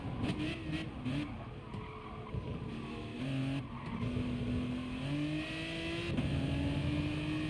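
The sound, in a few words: race car engine in Gran Turismo Sport video game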